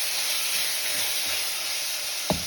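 Mutton sautéing in a pot for biryani gives a loud, continuous hiss and sizzle up close, with a couple of faint scraping stirs near the end.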